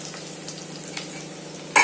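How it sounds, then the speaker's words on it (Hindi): Boiled rice is tempered with cumin and onion in a hot pan, giving a steady close sizzle with a brief louder burst of frying near the end. "मैं ना जीरे वाले जीरे और प्याज के चावल छोक रही।"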